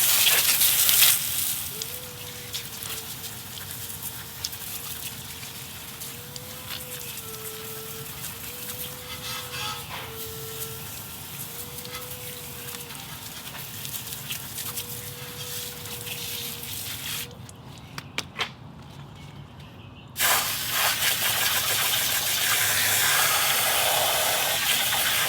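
Water spray rinsing cleaner off dirty car wheels, a steady rushing hiss that drops briefly, then returns louder and harsher near the end, with a faint tonal whine underneath for much of it.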